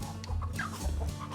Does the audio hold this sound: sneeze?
no